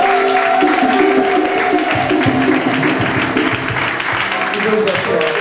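A church congregation applauding during a pastors' ordination service, sustained loud clapping from a crowd with voices mixed in throughout.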